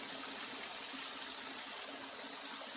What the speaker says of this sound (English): this is a pretty little waterfall